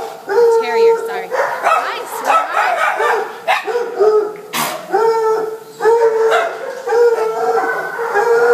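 Shelter dogs, including a small shepherd-terrier mix, bark, yip and howl in overlapping bursts throughout, loud and close, while a person talks among them.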